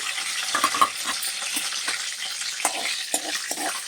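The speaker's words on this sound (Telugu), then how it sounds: "ఇవ్వండి, స్లోలోనే మీడియంలో పెట్టుకుని ఫ్రై చేసుకోండి" Vegetables fry slowly over medium heat in a pan for Andhra-style veg biryani, a soft continuous sizzle broken by scattered clinks and scrapes of stirring.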